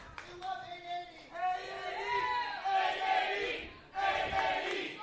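A wrestling crowd at a New Year's show roars and shouts together, rising and falling in loud waves of cheering voices.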